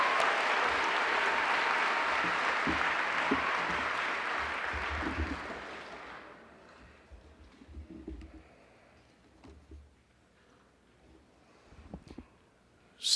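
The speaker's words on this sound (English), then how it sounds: "That deserves another round of applause." A crowd at a high school graduation ceremony applauds loudly. The clapping fades after about six seconds into a quieter hall, where a few scattered sounds and bird-like coos can be heard.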